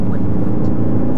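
A Ford Focus diesel engine revs under hard acceleration, heard from inside the car as a steady, loud low-pitched drone and whir with no talking.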